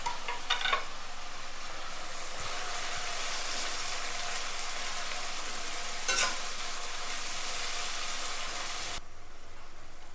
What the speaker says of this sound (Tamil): ஆனியன் ஃபுல்லாக ஃப்ரை ஆகிடுச்சு.